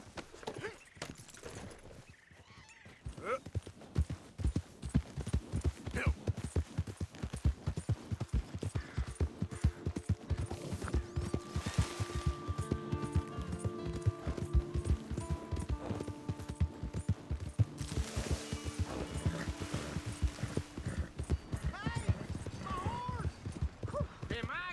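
Horse hooves clip-clopping at a steady gait in the Red Dead Redemption 2 video game, a rapid continuous patter under background game sounds and voices.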